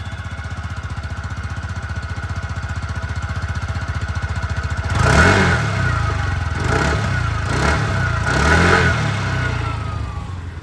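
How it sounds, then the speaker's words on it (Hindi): A 2024 TVS Jupiter 110 scooter's exhaust, idling with a steady low putter at first, then started or revved about halfway through, rising into louder, rougher engine bursts with several throttle blips close by, with no talk. "दोस्तों जो एग्जॉस्ट साउंड है वो भी मैं आप लोग को सुना दूँ।"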